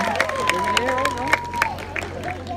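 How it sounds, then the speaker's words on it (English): Audience at a veterans honoring event gives applause and cheering for a person being recognized, with a whistle-like tone and voices over steady clapping, moderately loud throughout. "An applause for Jalen Hustle."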